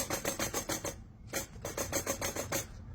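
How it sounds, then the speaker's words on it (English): Failed springs inside a McLaren drive line damper near the starter make a harsh, raspy rattling in quick repeated bursts, fairly close, with a short pause partway through and no talk. "what you're hearing are those springs that fail"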